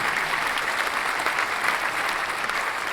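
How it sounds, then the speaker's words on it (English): An audience applauds during a live podcast taping, a thick, even roar of many hands clapping that holds steady throughout without talk. "I'll give you applause for that one."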